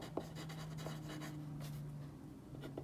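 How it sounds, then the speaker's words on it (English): Writing on a chart, faint scratchy marker or pen strokes in short bursts, close but quiet, with a low steady hum underneath. "I'm going to write"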